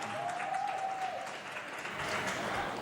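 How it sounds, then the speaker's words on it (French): A SpaceX launch team claps in a control room as a Falcon 9 stage separates during the Crew Dragon launch, a steady, moderately distant wash of applause with a faint tone drifting over it. "vous entendez que toute l'équipe applaudit"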